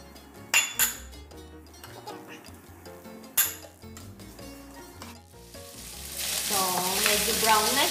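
Bacon fries in a pan for fried rice with vegetables. A few glassy clinks and utensil knocks sound over background music, then a loud, close sizzle swells and hisses continuously to the end.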